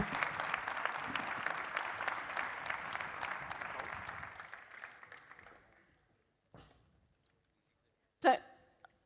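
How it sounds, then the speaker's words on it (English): A conference audience gives warm applause to the panelists at a ChangeNOW sustainability event. The applause fills the first few seconds, then tapers off and stops, and a couple of isolated knocks follow in the quiet. "Please give them an incredible warm round of applause."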